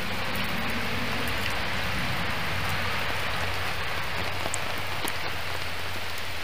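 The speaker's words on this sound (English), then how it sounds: "It's going to rain all day today." Heavy steady rain falling outdoors, a dense close hiss with scattered drops across the whole stretch, no voices.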